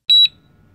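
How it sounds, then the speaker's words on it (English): An audible beep from a LumeCel AutoFoam soap dispenser as its nozzle engages, a single short, clear, high electronic tone, loud and close, followed by near silence. "listen for audible beep"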